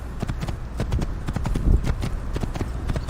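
Horse hooves galloping in the video game Assassin's Creed, a fast, loud, continuous clip-clop rhythm with heavy thuds close up, no talk over it.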